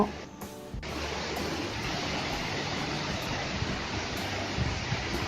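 Shiraito Falls near Mount Fuji pours down as a dense, steady roar of falling water and spray, loud and close, with a brief handling knock at the start and no voices.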